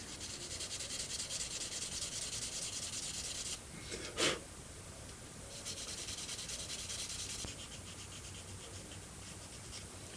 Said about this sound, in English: I do want to kind of give it a little scuff